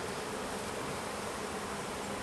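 A dense, continuous buzz of honeybees swarms around an open hive during a split, loud and close throughout with no voices.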